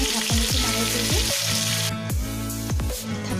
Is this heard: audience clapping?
no